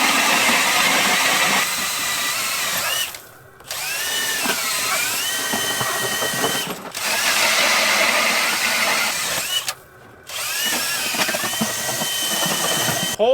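A gas-powered auger drills holes through thick lake ice for ice fishing, its engine revving loudly and close, dropping to brief idles between bursts of grinding.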